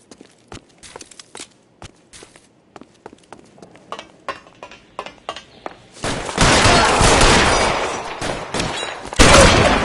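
Gunfire in L.A. Noire, opening with scattered sharp shots and footsteps, then a sudden dense roar of sustained volleys over the last few seconds, loud and close.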